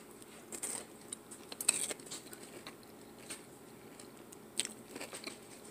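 Crunchy air-fried tater tots from the Dollar Tree bitten and chewed up close, with a few sharp crunches standing out over quiet, soft chewing and no talking.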